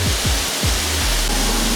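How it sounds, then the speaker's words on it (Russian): Stone waterfall in Abkhazia pouring straight out of the rock face, a steady broadband rush of falling water, loud and close, with a few low thumps or handling bumps underneath. "прямо из породы течет водопад"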